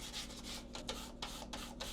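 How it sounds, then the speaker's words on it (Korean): Fine 2000-grit sandpaper rubs back and forth across a restored bathroom sink's sprayed coating in steady, close, airy strokes with short pauses between passes. "마무리하기 전에 2000방 사포로 면을 갈아주세요."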